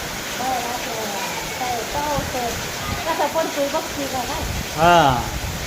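Calm, gentle rain falls steadily over a village, a soft continuous hiss with people talking over it throughout.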